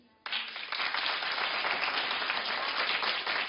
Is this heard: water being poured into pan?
no